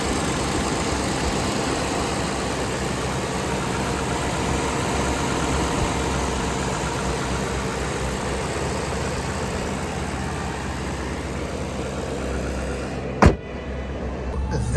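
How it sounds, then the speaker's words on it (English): A 2006 Maserati Quattroporte engine idles steadily close by, a constant low rumble with a faint whine, ending with a brief sharp click. "check this out. This is what this engine sounds like."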